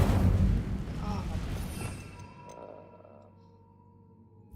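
Incendio fire spell cast in Hogwarts Legacy: a loud, roaring burst of flame with a booming low rumble that decays over a few seconds into a quieter tail.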